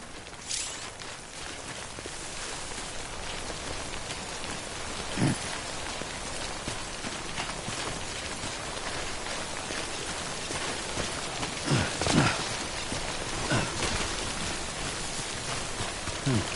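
Steady in-game timefall rain hissing across the whole stretch, a soft broadband wash with a few brief louder taps and splashes near the middle and end, with no one speaking.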